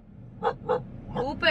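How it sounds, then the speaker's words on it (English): A dog barks at a man in a truck, giving a few quick barks close by in an uneven rhythm, with a person's voice mixed in. "he's barking to some guy that he's in a truck"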